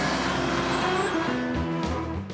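Heavy trucks idling and rumbling at the Iowa 80 truck stop, a loud steady low engine drone with shifting tones and a brief air-brake hiss near the end.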